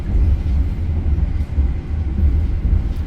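The Taksaka luxury passenger train rolls along at speed. A heavy, steady low rumble with a faint rattle holds throughout, as heard from inside the carriage.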